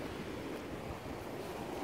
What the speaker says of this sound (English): But I think the cool, calming waves is much better.